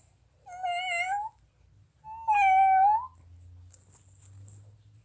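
Two long meows from a child imitating a cat, separated by a short pause, with faint background noise afterward.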